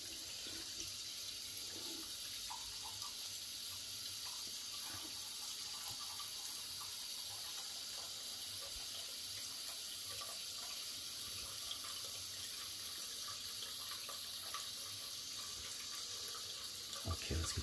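Cold tap water running into a sink while a 1940s Gillette Tech safety razor is rinsed, a steady hiss and splash with small shifts as the razor passes through the stream, continuous and fairly faint.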